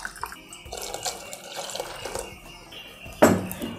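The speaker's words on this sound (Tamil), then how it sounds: "3 பங்கு கிட்ட தண்ணி விட்டுருங்க." Water poured into a cooking pot while making rice and lentil payasam, with intermittent splashing and trickling, faint at first, then a sudden louder splash near the end.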